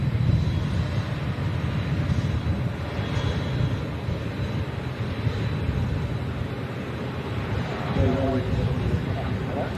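An Emirates Airbus A380 passes with a steady, broad jet roar that holds loud throughout, with voices talking over it.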